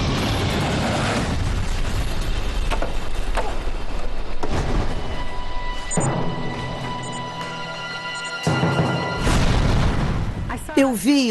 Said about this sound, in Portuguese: Foi uma explosão enorme, como se uma bomba tivesse caído no solo.